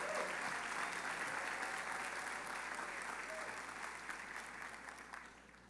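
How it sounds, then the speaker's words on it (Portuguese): A church congregation applauds together, a dense, steady wash of clapping heard at a distance that slowly fades over several seconds. "Vamos dar uma salva de palmas para eles então"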